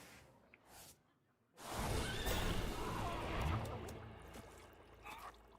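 A horse neighs loudly in a video game, a long whinnying burst that swells up after a brief quiet and trails off over a few seconds.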